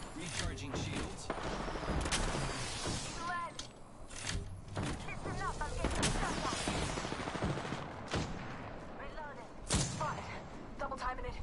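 Bombs and grenades explode amid dense gunfire in a hectic Apex Legends firefight, with repeated sharp blasts and bursts layered over continuous loud battle noise.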